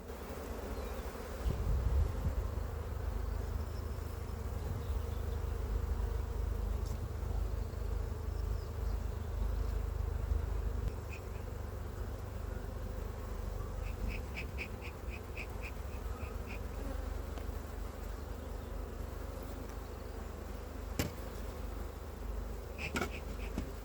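Steady, dense buzzing of many honeybees close by at a hive, a continuous droning hum with no voices.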